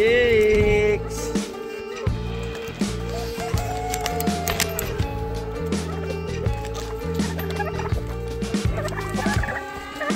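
Poultry close by, making steady rapid gobbling and clucking calls in repeated pulses that run throughout.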